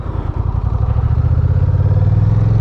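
A motorcycle engine close by as the rider adds a little throttle, a loud, steady rhythmic putter rising slightly in pitch and pulse rate, with no talk.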